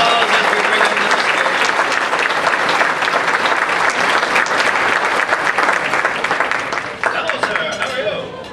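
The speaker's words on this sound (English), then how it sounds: "Give him a nice round of applause as we bring him to the stage." Loud, sustained audience applause at a hospice benefit party fills the room for over eight seconds, many hands clapping densely and close, tapering slightly near the end.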